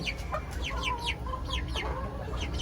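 Chicken clucking close by, a run of quick repeated clucks and short squawks over steady low background noise, with no talk.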